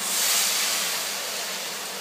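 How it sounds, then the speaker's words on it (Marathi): Water poured into masala paste frying in oil in a pan, for a bhaji curry: a loud, steady broadband hiss and sizzle close by that swells at first and then holds fairly even, with no talking. "मसाला परतवून झाल्यावर यामध्ये पाणी घालायचं आहे।"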